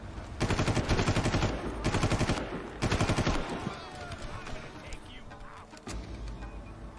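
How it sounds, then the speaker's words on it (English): Gunfire in Far Cry, with loud rapid automatic bursts in several volleys that fade into a quieter, echoing tail and scattered single shots. "Who is shooting me?"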